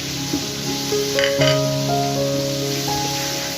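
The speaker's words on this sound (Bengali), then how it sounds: "মশলাগুলো ভালো করে কষিয়ে নেবো" Spices with chili paste, cumin powder and salt sautéed in a pan for tilapia and taro curry, making a steady close sizzle under faint sustained tones, with no talking.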